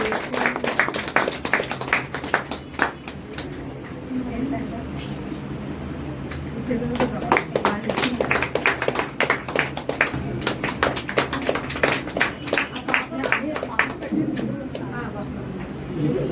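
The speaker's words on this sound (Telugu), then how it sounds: "క్లాప్స్ కొట్టండి." A group claps along at a birthday celebration, a sustained run of quick, uneven hand claps with brief pauses, fairly close, while voices talk and call out over the clapping.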